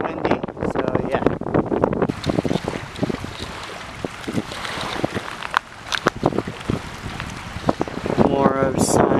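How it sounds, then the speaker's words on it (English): Strong wind during Hurricane Michael at a flooded Sarasota Bay park, gusts roaring and buffeting the microphone continuously while people talk over it. "And it's windy"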